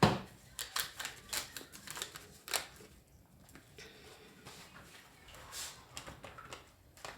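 Tarot cards are shuffled by hand, giving close, irregular bursts of riffling and patting slaps with short pauses between them and no speech.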